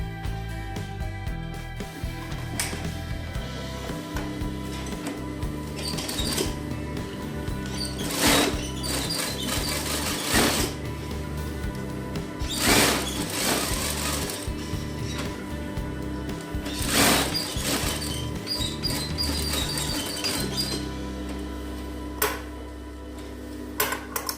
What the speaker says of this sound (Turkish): evinizde makine varsa mesela bu uçlardan dikebilirsiniz